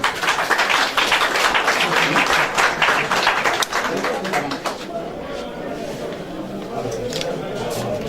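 A room of attendees at a July 2016 press conference applauds for Guy-Brice Parfait Kolelas, president of the party, loud clapping for about five seconds that then fades into quieter room noise.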